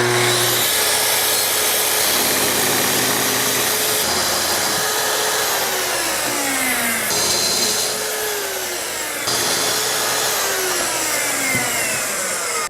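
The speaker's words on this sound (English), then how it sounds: "now that I've trimmed the molding off of the base" Loud, close power tool whining steadily while trimming molding off a wooden nightstand base, its pitch dipping and recovering under load through several continuous passes.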